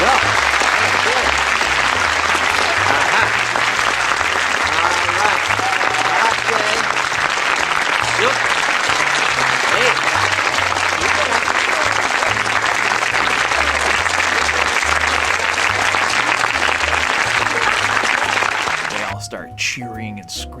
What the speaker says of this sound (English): the credits start to roll, and then the audience goes berserk